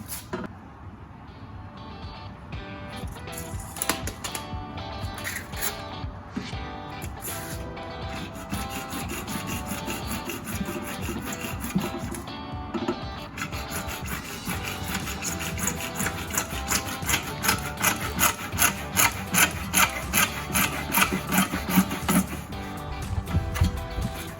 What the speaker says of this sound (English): So I'm going to cut my PVC pipe 15 inches just so it's slightly sunken below